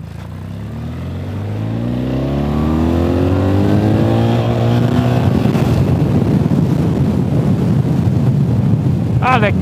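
A BMW R 1300 GS motorcycle pulls hard uphill in second gear, its engine note rising steadily in pitch and loudness as wind rush builds, heard up close from the rider's position.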